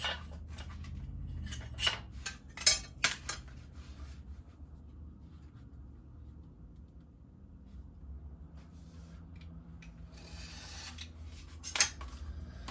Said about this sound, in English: So we'll cut that off right there.